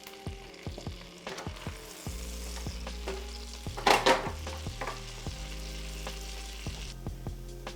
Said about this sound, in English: We're gonna saute these until they develop a nice golden brown color on all sides.